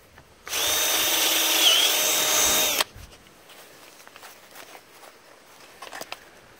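A power drill whirs loudly and steadily for a couple of seconds while replacing the starter on a Honda lawnmower, then stops, leaving quiet rustling and faint handling noises.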